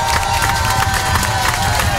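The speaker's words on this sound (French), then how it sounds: "On va applaudir Arthur, il fait les vidéos." Studio audience at an NRJ radio show cheers and applauds, a loud, steady wash of clapping and shouting voices filling the whole two seconds.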